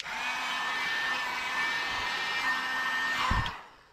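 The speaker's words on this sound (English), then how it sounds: "let me see the heat gun" A heat gun blowing a steady, airy whoosh during boat wiring work, close and continuous before cutting off abruptly near the end with a faint knock.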